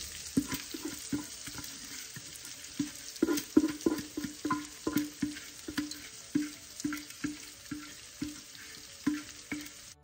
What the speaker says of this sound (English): Go ahead and add in all of your rice, mixing occasionally